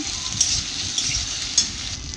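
Dried red chillies with salt and turmeric fry in a pan as they are stirred, giving a steady bright hiss of sizzling oil with a few faint taps of the spoon against the metal.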